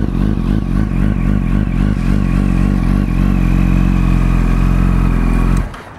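A used Yamaha R1 sport motorcycle engine runs close and loud, pulsing with throttle blips at first, then holding a steady rev before cutting off abruptly near the end.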